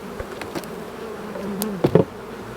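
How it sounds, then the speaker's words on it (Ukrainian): Honey bees buzzing steadily close by at a hive, a dense droning hum with a few louder bees passing near. "Так, тут багато бджоли є."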